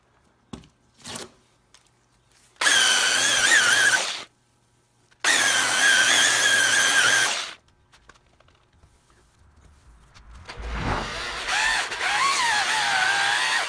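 A DeWalt buffer polishes a yellowed car headlight, whirring loudly in two bursts of about two seconds each, then starting again and running steadily to the end after some faint handling noises.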